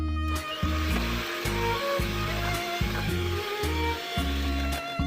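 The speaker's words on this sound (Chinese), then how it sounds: "咱们用电动打蛋器的中高速，就是3档或4档来打发这个鸡蛋清" An electric hand mixer on medium-high speed whips egg whites in a bowl for a traditional sponge cake, with a steady whir and rhythmic rattling beats against the bowl.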